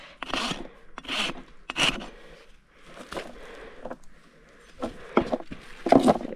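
A rasp files a barefoot horse's hoof in rhythmic rough strokes, about eight passes with short pauses between them, close and fairly quiet.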